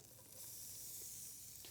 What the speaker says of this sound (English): that butter now, you can start to hear it sizzling and starting to get hot